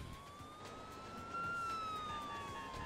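An emergency vehicle siren from the video game Emergency 4 with the LA mod wails as a single rising and falling tone over a low engine-like background, growing slightly louder partway through.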